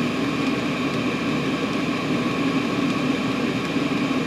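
A diesel heater runs hard at high pump speed, giving a steady, loud broadband roar with a low combustion rumble and faint periodic ticks of the fuel pump throughout, no talking.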